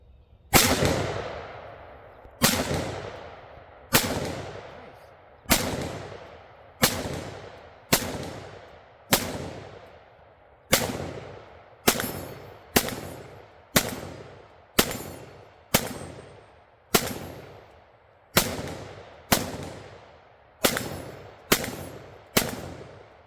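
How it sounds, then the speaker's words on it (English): Repeated rifle shots from a Palmetto State Armory Freedom AR-15 with an A2 carry handle, fired at an outdoor range toward targets about 90 yards away: about eighteen sharp, loud reports at a steady pace of roughly one per second, each with a short decaying echo. "But let's try some rounds down here at about 90 yards."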